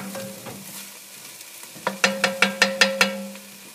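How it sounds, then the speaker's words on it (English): A pot of cauliflower soup with stock is stirred, several scraping knocks followed by a quick run of six sharp, evenly spaced clacks of the spoon against the pot, close and fairly quiet. "Give that a good stir."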